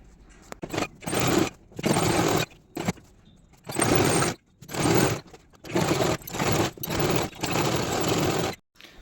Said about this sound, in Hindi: जैसे हम सादे पजामे में फिटिंग की सिलाई लगाते हैं वैसे यहाँ पे फिटिंग की सिलाई लगा लेंगे।